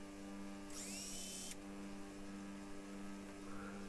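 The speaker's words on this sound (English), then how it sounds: "These nylon buffing pads are very good. I'll strip the metal off there" An angle grinder fitted with a nylon buffing pad bites into a small bench vice, a harsh high-pitched grinding burst lasting under a second over a steady electrical hum, then a faint scrape near the end.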